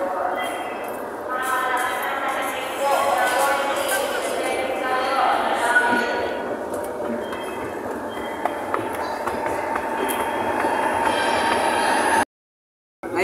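Rail transit ride toward Taft Avenue, Pasay, heard from inside the carriage: a continuous rumbling hum with faint clicks and brief squeals, people talking over it, then a short sudden dropout near the end.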